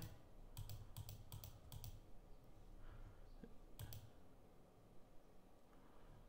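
Bursts of keyboard typing, quick clicking keystrokes in short clusters with pauses between, fairly close and quiet.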